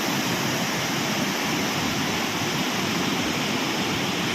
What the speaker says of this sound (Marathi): ओव्हरफ्लो झाले सगळं भरून वाहते दुथडी भरून वाहते नदी